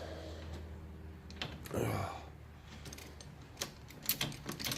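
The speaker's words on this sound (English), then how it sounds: "got my ratchet on down there" Ratchet working on a radiator hose fitting of a 1996 Toyota Corolla engine bay: faint scattered clicks and mechanical rattles, a brief strained breath, then sharper clicking bursts toward the end.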